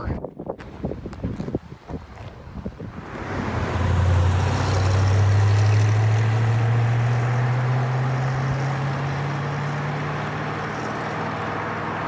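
A restored 1966 Mustang GT drives off after a few knocks and clunks, its engine settling into a loud, steady low drone that holds alongside rushing wind and road noise.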